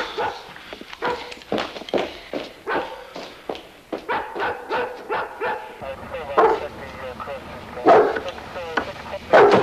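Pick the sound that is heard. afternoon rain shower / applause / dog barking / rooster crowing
dog barking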